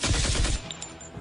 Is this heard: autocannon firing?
yes